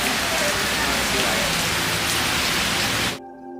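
Heavy rain pours in a dense, steady roar during a Kottiyoor temple festival in Kerala, cutting off abruptly near the end.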